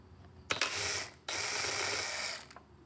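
A 5/8 deep socket ratchet loosens the spark plug on an Echo string trimmer, giving two long bursts of dense, rasping clicks separated by a brief pause, fairly close and with no talk.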